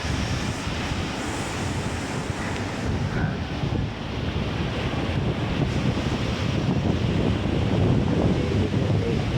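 Steady roar of sea waves washing in continuously on a Davao Oriental beach, with gusty wind buffeting the microphone throughout.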